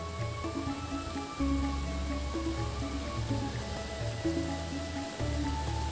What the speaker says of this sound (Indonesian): seperti inilah ya suasana musim hujan di kampung yang kebetulan sangat berkabut ya